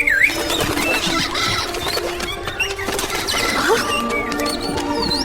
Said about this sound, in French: et j'ai apporté des perroquets.